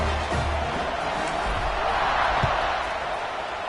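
A football video game crowd roars at a kickoff, a steady broad cheer with a few faint thumps and knocks beneath it.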